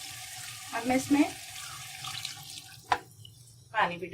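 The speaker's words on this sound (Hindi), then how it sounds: "पानी भी डाल दूँ।" Water is poured into a cooking pot of marinated mutton for a restaurant-style mutton karahi, giving several short splashing bursts over a quiet kitchen background.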